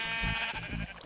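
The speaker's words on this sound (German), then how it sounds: "Oh, die Schafe hier, die sind aber auch schon" A loud, close sheep bleat from Minecraft, one wavering nasal call pulsing in quick stutters and heard alone.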